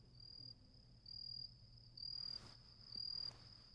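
Crickets chirp in steady, evenly spaced pulses at a moderate, close distance, a thin high trill repeating about once a second over a faint low hum, with no voices.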